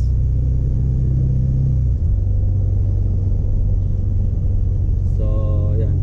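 A matte black Mercedes G63 driving through a U-turn at a roundabout, a loud, steady low engine rumble that shifts slightly partway through, with a brief voice near the end.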